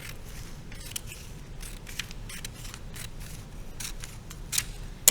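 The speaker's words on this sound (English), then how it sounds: "take your scissors and cut on that fold line." Scissors snip steadily through folded magazine paper at close range, a series of crisp, irregular cuts with faint crackling, no voices, ending in a slightly louder snip.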